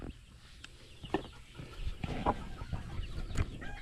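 Hens cluck softly in short, scattered bursts close by, amid rustling and shuffling sounds from a coop.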